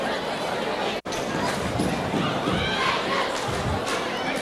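A big crowd at a high school basketball game between Northview and Dothan fills the gym with a steady murmur of chatter and shouts, under a commentator's voice.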